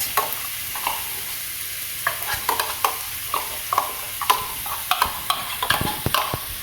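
Corned beef being broken up and stirred in a pot, a utensil scraping and knocking in a steady uneven rhythm over a low sizzle of frying, close and fairly loud with no talk.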